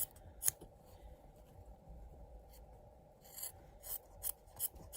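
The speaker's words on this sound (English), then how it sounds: "You can also kind of trim your corners like so to help them poke out nicer when you flip it." Scissors snip and trim fabric corners for a sewn pin cushion, giving quiet, close, crisp cuts in short bursts toward the end, with soft rustling of cloth.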